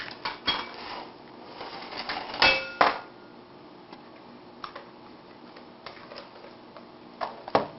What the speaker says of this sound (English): Mix it up and then put the raisin mixture